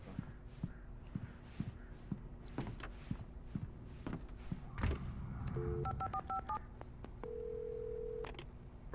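In the Alan Wake Remastered video game, a telephone rings at the sheriff station: short electronic ring tones and a sustained tone follow soft footsteps and thuds, with no talking over them.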